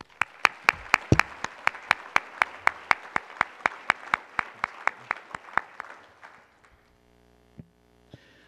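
Applause at an annual luncheon, rhythmic clapping with sharp, evenly spaced claps over a softer crowd patter, fairly close and clear, fading out after about six seconds and leaving a few isolated claps.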